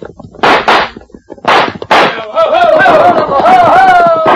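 Gunfire effect in a 1952 Cisco Kid radio drama set at a cave: sharp, loud bursts of shots, with a tonal, music-like sound rising beneath and then carrying through the rest.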